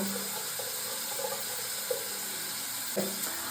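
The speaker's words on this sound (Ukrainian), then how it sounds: "Зараз включу теплу воду." Warm water runs steadily from a tap into a sink at home during a face-washing routine, a constant close hiss with a few small splashes and knocks.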